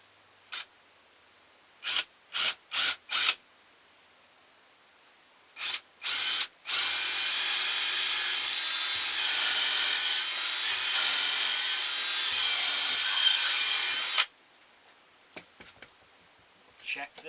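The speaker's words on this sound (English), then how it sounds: "now we're going to drill our hole in here for our string. And I'm going to use a 1/4 inch drill bit for this." A power drill with a 1/4 inch bit bores a hole through wood for a ventriloquist figure, beginning with several short trigger bursts and then a steady whine of about eight seconds at close range.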